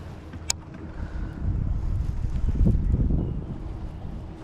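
Wind gusting outdoors on the water while fishing, a low rumbling buffet against the microphone that swells midway and stays close and steady, with a faint short click early on.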